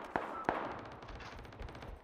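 Gunfire in the video game PUBG: two sharp, distant shots ring out early, then a low rumble and faint crackle of further firing in the background, with no talk.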